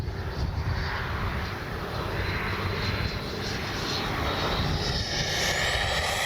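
An FMS Avanti S 90mm electric ducted-fan RC jet flies past on its maiden flight, a steady loud turbine-like whine and rushing roar holding throughout.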